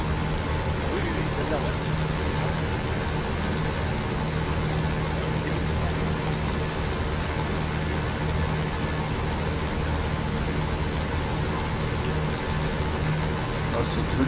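Mercedes engine of a Bf 109 K-4 in the DCS World flight simulator, a steady, loud droning hum with continuous broadband roar throughout, no break in level.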